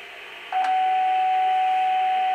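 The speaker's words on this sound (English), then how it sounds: "So I have a 750 hertz tone on the computer" A steady 750 Hz sine tone played from a computer for offset tuning of a Rockless QRP radio, starting abruptly half a second in and holding constant over a faint background hiss.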